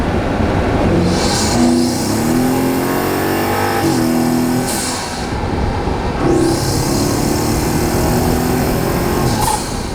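A BMW X7 M60i fitted with a full carbon intake, captured from inside the engine bay: a loud, continuous roar with rising whooshes as it revs, steady and close throughout.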